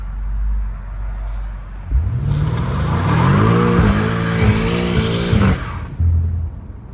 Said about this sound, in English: Give me a little rolling burnout